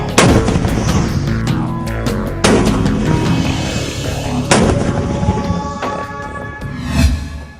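Heavy artillery and gunfire in cross-border firing boom out in loud, reverberant blasts several seconds apart, each followed by a long rolling echo, with lighter sharp shots between them and no talking.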